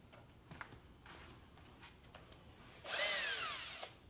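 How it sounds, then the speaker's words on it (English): A drill spinning a decal eraser wheel, a faint ticking and handling before a brief rising whine as the drill spins up for about a second, then cuts off. "Just chuck them up in a drill."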